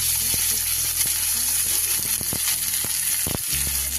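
Cubed onion frying in hot oil, a loud, dense, steady sizzle with a few sharp spatula taps against the pan, no voices.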